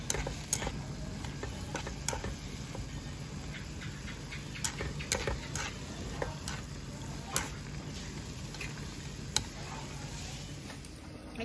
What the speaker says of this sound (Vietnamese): Giờ mình kho cá ra đây nè.